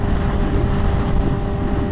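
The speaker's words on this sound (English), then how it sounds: "Oh my gosh, there's so much wind." Strong wind buffets the microphone with a constant, heavy low roar and rumble throughout, with no voices.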